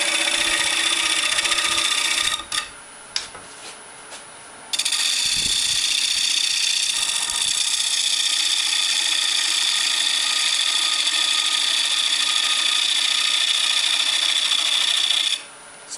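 A lathe tool makes a pull cut flattening the bottom of a small wooden plate, a harsh continuous scraping rasp that pauses briefly with a few knocks, then resumes steadily before stopping.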